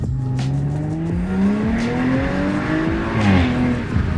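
2019 Audi RS5 engine revving hard and accelerating from inside the car, rising pitch through a quick upshift, loud and close with a brief tire chirp near the end.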